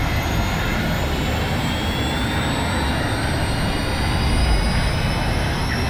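A guided missile streaking toward its target in Call of Duty: Modern Warfare II, heard as a loud, steady jet-like roar that stays constant for several seconds with no breaks.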